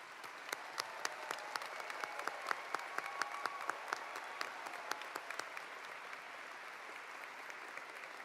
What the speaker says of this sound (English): Let's give these great graduates another of many well-earned rounds of applause